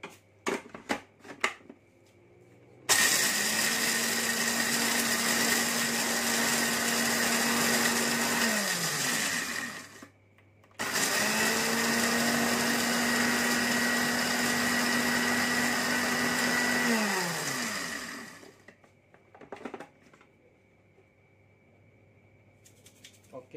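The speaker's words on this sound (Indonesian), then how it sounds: "saya menggunakan blender." An electric blender grinds coffee beans in two long bursts, a loud whining motor roar lasting several seconds each with a short pause between, winding down at the end of each run, followed by quieter handling clatter.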